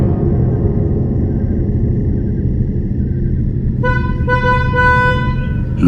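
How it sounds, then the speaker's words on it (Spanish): A car horn sounds as a sound effect in a narrated horror story, starting as a low steady drone, then a loud, close, sustained honk rising over it near the end. "también me asustó el ruido del claxon"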